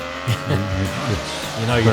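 A classic racing car, likely a 1964½ Mustang with a four-speed gearbox, gives off a loud engine induction and exhaust note, revving in uneven pulses up close while people talk over it.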